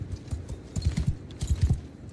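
Horse hooves clip-clop in a medieval battle video game, a few quick, soft hoofbeats in two short bursts, faint and close.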